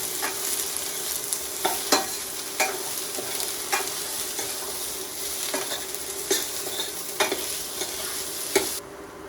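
Two onions and four green chillies frying in a pan, a steady sizzle under repeated scraping strokes of a spoon against the pan at irregular intervals.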